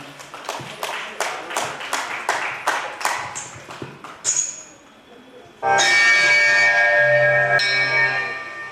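An audience at a Bal Bhavan retirement celebration claps in quick, even rhythm along to a devotional song. Loud devotional music with singing then swells in and continues.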